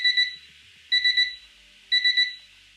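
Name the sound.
built-in timer alarm ringing, up to 90 decibels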